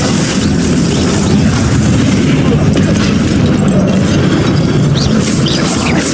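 Explosive blasting-spell booms erupt in the video game Hogwarts Legacy, heavy low-end bursts layered over a dense, loud, continuous battle din with no pause across the stretch.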